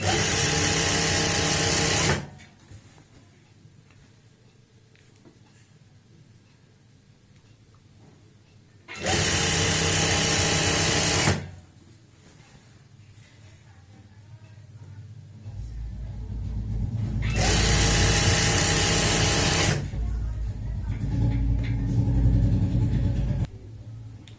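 Sewing machine stitching a seam on a loose palazzo, three separate bursts of steady motor whir a few seconds each, separated by quieter handling and rustling of fabric.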